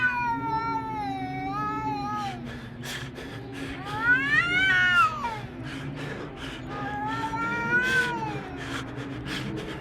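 Stray cats yowl and caterwaul outdoors, long drawn-out wailing meows rising and falling in pitch, several overlapping cries, loud and close and sustained throughout.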